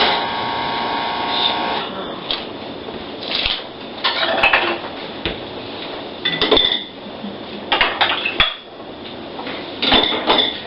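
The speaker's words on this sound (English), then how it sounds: "Load up the other dish, the next batch of dishes." A batch of dishes is loaded, with crockery and cutlery clattering in irregular knocks and clinks over a steady background hum, and no voices.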